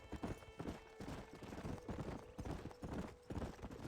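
Horse hooves clip-clop in a steady trotting rhythm while riding in Red Dead Redemption, the close, regular beats continuing throughout with a faint tonal game background and no clear speech.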